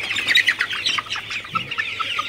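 Sonali chickens crowded together in a farm shed during heavy, humid heat, a flock giving off repeated squawks and clucks at close range over a low steady hum.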